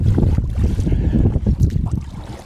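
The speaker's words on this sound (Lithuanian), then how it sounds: "čia vėjelis pakilęs" Strong gusty wind buffeting the microphone aboard a kayak on a marsh, a continuous loud low rumble with faint water sounds and no talking.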